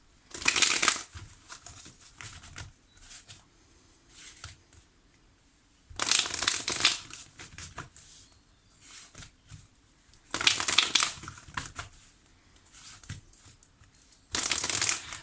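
Tarot cards cut and shuffled, close up: four loud, riffling shuffle bursts spaced several seconds apart, with softer card slides and taps between them.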